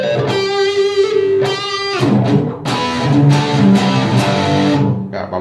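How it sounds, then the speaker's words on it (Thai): Crunch-distorted electric guitar plays a short solo phrase of bent, sustained notes followed by quicker picked figures, loud and up close with no talking. "ก็ประมาณนี้ครับให้เป็นเสียงแตก"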